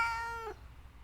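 A single cat's meow, drawn out and sliding downward, heard close and clear with no talking, then trailing off into quiet room tone.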